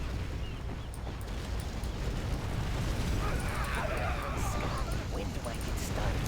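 Inferno cannon firestorm blasts in the real-time strategy game Command & Conquer Generals Zero Hour, played as the China Infantry General, form a dense, rolling wash of booming explosions and crackling fire while a voice talks over them.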